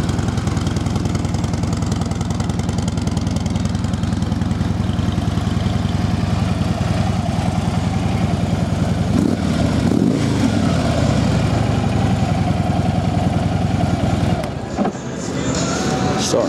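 A Harley-Davidson Street Glide FLHX motorcycle with its factory exhaust idles close by, a steady, fairly quiet low rumble that runs throughout, with a brief disturbance around the middle and a short dip near the end.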